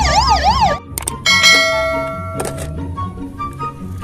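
A toy fire truck's electronic siren wails in a fast rising-and-falling pattern, then cuts off and gives way to clanging bell tones and electronic beeps, loud and close.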